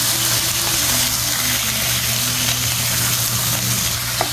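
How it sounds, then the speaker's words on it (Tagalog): Chicken pieces stirred into sautéed garlic and onion in a pan for creamy chicken adobo, a dense, loud sizzle with a constant low hum underneath and a single small clink near the end, no speech. "i-mix lang natin dito sa ating ginisang ng bawang at sibuyas."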